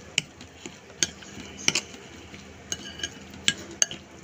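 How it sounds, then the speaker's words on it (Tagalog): A utensil stirs a Shanghai roll filling of ground meat, vegetables and egg yolk in a bowl, giving light scattered clinks and scrapes against the dish at an irregular pace, close and fairly quiet. "Mix natin."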